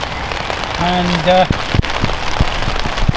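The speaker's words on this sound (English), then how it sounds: "we knew we were going to get some rain" Steady rain falls on an outdoor surface at a fishing spot, a dense hiss running throughout beside a dog, with a few sharp taps and a brief tonal sound near the start and a voice speaking briefly.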